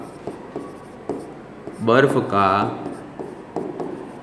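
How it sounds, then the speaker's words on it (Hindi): Chalk or marker strokes of a teacher writing on a board during a Class 9 science lesson, short scratchy taps spread through the clip, with a voice speaking briefly in the middle. "तो हम लिख सकते हैं यहाँ पर"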